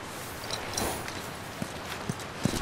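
Horse hooves clip-clop on the ground in The Last of Us, a few spaced, fairly soft hoof strikes close by over a steady ambient background, with no talking.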